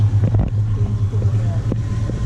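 A boat engine runs in a steady low hum on a snorkeling trip around Langkawi, Malaysia, with wind buffeting the microphone and a few brief voices over the drone.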